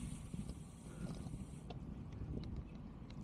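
Steady wind rumbling across the microphone on a sunny day during a two-hour ride, a broad continuous roar with faint mechanical clicks, no voices.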